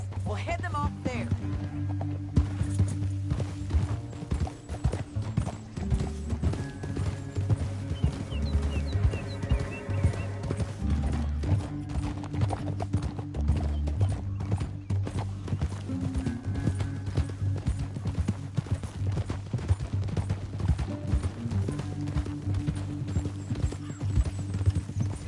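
Horses gallop in the video game Red Dead Redemption 2, hooves clip-clopping steadily, with occasional whinnies, all set against a constant background of music and low rumbling.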